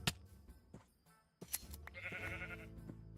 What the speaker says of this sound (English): Oh, here's a gray sheep.